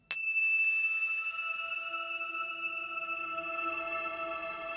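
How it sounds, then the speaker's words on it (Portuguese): A single bell is struck once, then its clear metallic tone rings on and slowly fades over several seconds, alone in quiet. "a nossa vibração começa com este sino"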